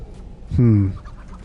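Chickens in the Diablo III video game give a single loud, harmonic squawk lasting about half a second amid quiet game ambience.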